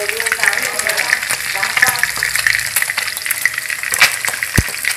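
A fish head sizzles and spatters in hot oil in a pan, a loud, close, continuous frying crackle with a few stirring knocks.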